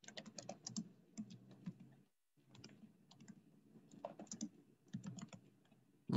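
Someone types a command on a computer keyboard at a command line, a quick run of close, soft key clicks with a brief pause midway before the tapping resumes.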